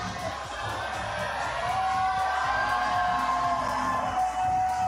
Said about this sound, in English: You can hear the crowd getting behind him here